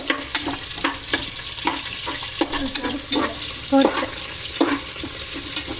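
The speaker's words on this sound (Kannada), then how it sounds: "ಎಣ್ಣೆ ಎಲ್ಲ ಕಾದ್ಮೇಲೆ ಪಲಾವ್ ಸಾಮಾನು ಹಾಕೊಂತ ಇದ್ದೀನಿ" Pulao ingredients, onions among them, fry in hot oil inside a cooker, a steady sizzle punctuated by repeated close scraping and stirring clatters, loud and busy with no talking.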